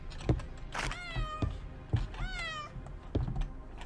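A pet cat meows twice in an apartment around feeding time, each call a rising-and-falling wail, with soft thumps and rustling between them.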